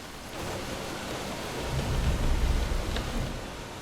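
Heavy rain pouring over a forest during a storm that has flooded a village, a steady broadband wash with a low rumble that swells in the middle, no voices.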